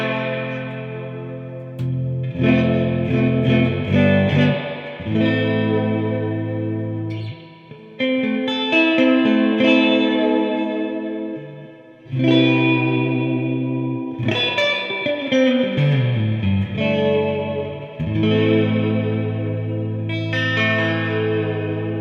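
Vintage 1960s Fender Jazzmaster played through an amp with heavy reverb: bright, ringing chords and notes in bursts, each trailing off in long washy tails between phrases, loud and clean with no talking.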